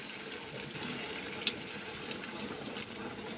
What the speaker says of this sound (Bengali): ওই বাটিটা ধুয়েই আমি অল্প করে জল দিয়ে দিই